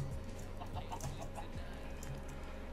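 Chickens cluck in a Minecraft survival game, with several short clucks scattered over a steady low background hum and no speech.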